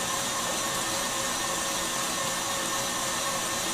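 Electric mixer whips a lemon drizzle cheesecake mixture as it thickens, a steady, loud whirring motor drone holding constant throughout with no talk over it.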